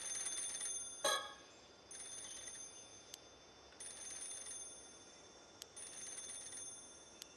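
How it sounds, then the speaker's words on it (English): An electronic telephone ring from the video game Paranormasight repeats in short bursts about a second apart, fairly quiet and steady, with a sharp click near the start and no voices. "The phone's ringing."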